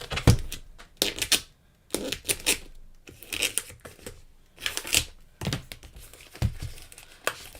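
Binder packaging is cut open and torn apart nearby in a series of sharp crinkling, ripping bursts with brief pauses between them.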